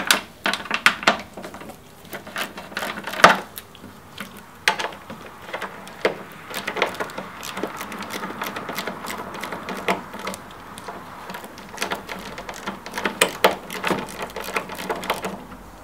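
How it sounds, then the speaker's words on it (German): Sharp clicks, light knocks and rattles of tools on metal and plastic parts while a headlight is unscrewed from a Holden Ute, close up and irregular, with quiet pauses between. "Jetzt werde ich mal hier diesen Scheinwerfer hier oben losschrauben."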